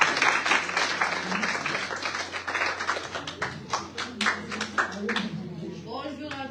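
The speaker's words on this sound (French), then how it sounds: "Acclamons pour maman." A congregation at a French-language thanksgiving Sunday church service breaks into lively applause, a dense wash of clapping that thins into scattered claps before a voice starts speaking near the end.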